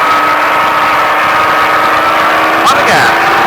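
Baja truck engine revving up at speed on a Las Vegas course, a steady loud drone that climbs in pitch near the end under a continuous instructor's voice.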